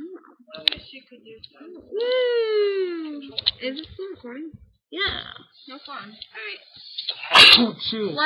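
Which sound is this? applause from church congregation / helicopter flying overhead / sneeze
sneeze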